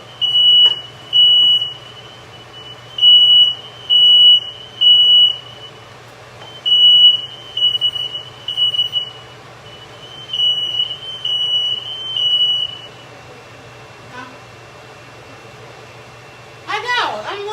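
A kitchen smoke detector goes off while someone cooks, sounding repeated loud, high-pitched beeps in on-off bursts of about a second, with a pause partway through, and a voice speaks briefly near the end.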